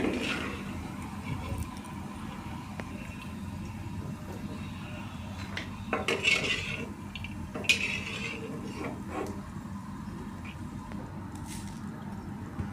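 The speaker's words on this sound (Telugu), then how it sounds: "పల్లీలు అయితే ఆయిల్ వేసి ఫ్రై చేసుకుంటున్నాను" Peanuts fry in oil in a pan, giving a soft, quiet crackle under scattered scrapes, clinks and rustles as they are stirred, with a couple of louder knocks of the utensil against the pan.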